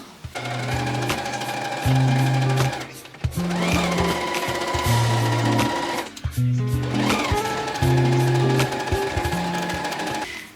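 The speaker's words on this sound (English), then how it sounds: "we're gonna pin all the edges and then sew again with a little wider seam allowance" Close, loud sewing machine stitching along pillowcase edges runs in three long bursts with brief pauses between, its motor whine and rapid needle rhythm steady throughout and no talking over it.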